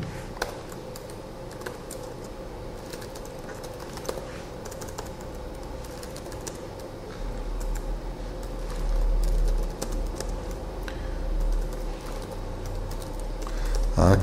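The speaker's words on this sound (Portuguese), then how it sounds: "Está difícil digitar hoje." Someone types on a computer keyboard while setting up a Git command, with a steady stream of light, irregular key clicks, fairly quiet and close, against a low background hum and no talking.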